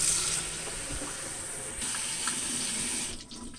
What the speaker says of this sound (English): now that the press has had some steamy hot water going through it